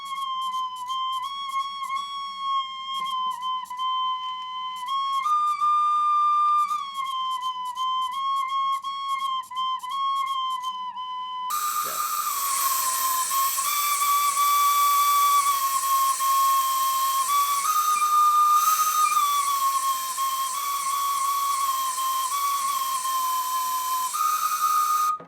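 A recorder blown by an air compressor, giving a shrill, steady whistle-like tone that holds and wavers between pitches, first cleaner and then harsher and breathier with a hiss of air, continuous and close, with no talking.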